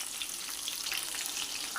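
Whole onions for a Kathiyawadi-style curry sizzle in hot oil, a close, even, crackling hiss with no voices.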